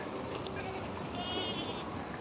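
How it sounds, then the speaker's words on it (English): Goats bleating on a farm, a harmonic call or two rising over a steady, busy background of running water and speech-like noise, fairly close but partly masked. "Here comes the goats."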